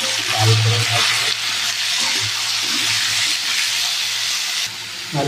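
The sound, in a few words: potatoes frying in hot oil with salt and turmeric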